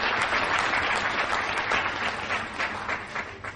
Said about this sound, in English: Can we have another special round of applause for him